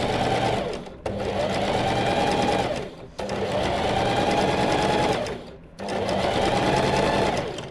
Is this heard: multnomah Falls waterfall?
no